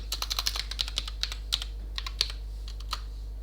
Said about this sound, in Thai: สมมติผมพิมพ์ว่าสวัสดี